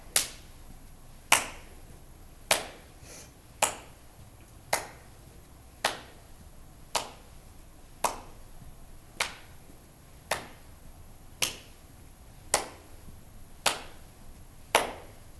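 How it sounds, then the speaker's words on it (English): Single sharp hand claps during a seated chair cardio workout, about fourteen evenly spaced claps roughly one second apart, crisp and close against a quiet room. "Step out and clap."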